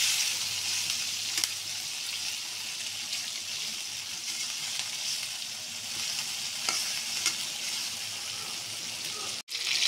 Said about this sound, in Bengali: এখন মাছটা সুন্দর করে ভেজে নেব